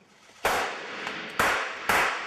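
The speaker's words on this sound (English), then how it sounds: "Fires off, the little explosion goes," Three sharp squib blasts on a film set, each a sudden bright crack with a short decaying tail, spaced about a second and half a second apart against quiet room tone.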